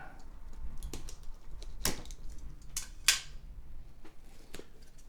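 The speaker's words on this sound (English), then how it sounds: "Cut another 2-inch strip" A 2-inch strip being cut, heard as a few sharp, close snips and clicks scattered over a low steady background hum.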